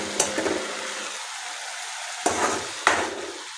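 Onion frying in oil with a ground paste for urad dal vada gives a steady soft sizzle, broken by a few louder stirring clinks and scrapes of a spoon in the pan.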